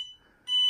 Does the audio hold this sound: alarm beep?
yes